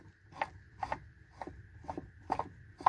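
A Honda Prelude H22 manual transmission being turned by hand in neutral, giving a steady run of soft clicking, ratcheting gear taps about every half second, close by in a quiet workshop.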